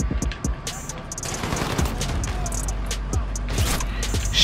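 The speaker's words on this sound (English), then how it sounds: "Shotgun." Rapid bursts of shotgun fire and clattering action sounds come from a fast online shooter game, mixed with a player's voice talking over the gameplay.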